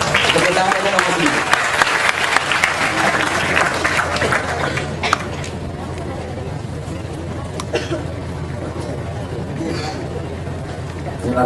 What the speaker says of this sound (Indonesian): Tepuk tangan untuk Romo Sindu